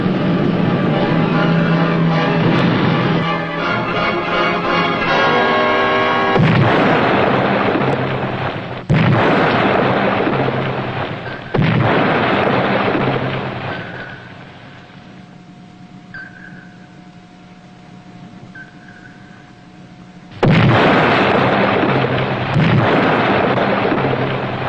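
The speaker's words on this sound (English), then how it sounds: "Rig for depth charge attack." Depth charge explosions rumble around a submarine under attack, a series of deep, loud booms with long rolling decays and quieter stretches between them, interspersed with faint sonar-like tones.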